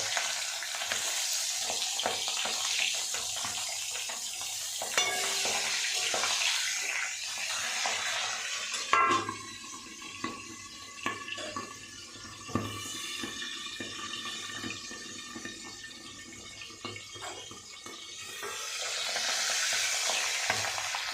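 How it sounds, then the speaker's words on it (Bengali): Pabda fish fry gently in oil under a lid, giving a loud, continuous sizzle that swells and fades, with occasional sharp pops and utensil knocks. No voices are heard. "খুব কড়া করে ভাজবো না হালকা হালকা করে ভেজে নেবো"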